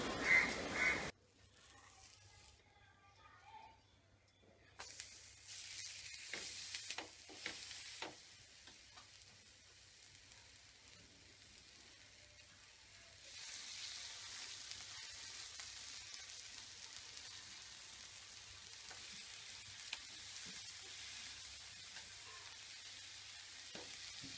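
A ragi uttapam sizzles in oil on a hot pan, a steady soft frying hiss that starts after a brief sharp noise and grows slightly louder partway through, with no talking.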